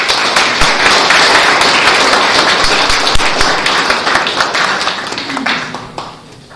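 A seminar audience at a golden jubilee gathering of a Delhi theology college gives the panelists a round of applause. The clapping is loud and dense, then thins and fades toward the end.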